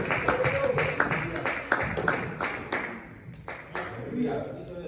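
A Spanish-speaking church congregation gives a short burst of clapping, with uneven, scattered claps mixed under a preacher's voice talking over it.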